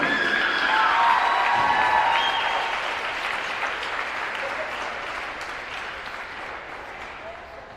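Audience applause for senior players at a women's college volleyball match in a gym, strong at first and slowly fading, with an announcer's voice and faint crowd noise underneath.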